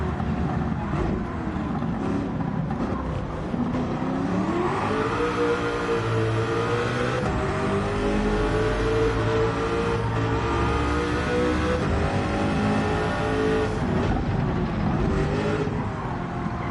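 A race car engine in Gran Turismo 7 drives steadily and loudly, revving and shifting through gears with rising and falling pitch sweeps over a continuous roar, with no talk over it.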